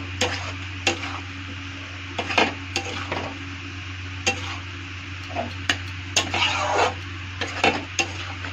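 Chopped tomato being stirred in a frying pan, with repeated scraping clinks of a utensil against the pan over a steady sizzle, close and clear with no talking.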